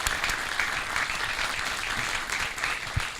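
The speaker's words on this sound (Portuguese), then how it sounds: "foi brilhante a participação de todos, com uma salva de palmas" Conference audience at a Rio technology panel on mobile and social media applauding the panelists, a dense continuous clapping wash holding steady throughout the short stretch, with no voices over it.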